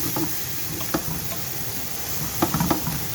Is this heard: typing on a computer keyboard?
no